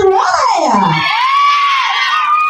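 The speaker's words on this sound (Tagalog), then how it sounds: "naman natin siya isang malakas at masigabong palakpakan na may kasama hiyawan" At an 18th birthday party, a crowd shouts and screams loudly with a high cheering whoop that swells and fades over a couple of seconds, close and energetic.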